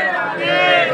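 A dense, packed crowd at the Holi festival in Barsana gives off a loud, close murmur of mixed voices and chatter, continuous for the whole moment.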